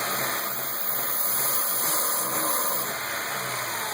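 A Honda H22A engine runs steadily, its mid-pitched drone rising and falling slightly as it stumbles under throttle, with a constant tonal whine above; no voices.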